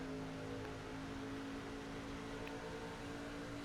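A NASCAR 25 Craftsman Truck Series race truck engine at Phoenix, in a video game, holds a steady, loud droning hum with a constant pitch throughout, with no talking.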